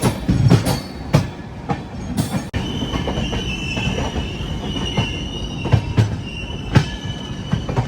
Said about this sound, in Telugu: స్లో చేశారండి మన ట్రైన్ని